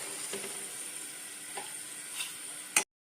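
Steady crackling sizzle of peanuts deep-frying in hot oil, with a few soft clinks, ending abruptly with a sharp knock.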